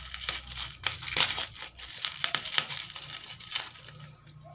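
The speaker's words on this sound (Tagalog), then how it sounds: "Naka-bubble wrap. Ang hirap buksan. So, kuha ko ng gunting para mabuksan siya." Crinkling and crackling plastic as a bubble-wrapped package is cut open with scissors, with quick rustles, crunches and tearing bursts running steadily and close throughout, no talking.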